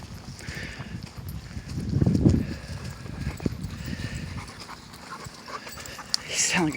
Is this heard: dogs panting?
yes